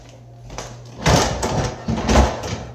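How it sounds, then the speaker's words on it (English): Loose kitchen drawers, one with a broken track, are pulled open and pushed shut, giving a couple of rattling wooden slides and knocks close by in a quiet house. "A couple of these drawers are a little loose."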